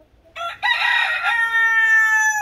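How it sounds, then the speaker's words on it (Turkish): A rooster crows once, loud and close, in a poultry coop alongside other roosters and chickens, the long harmonic call stretching out clearly with no talk over it. "Burada yine diğer grup horozlarımız duruyor."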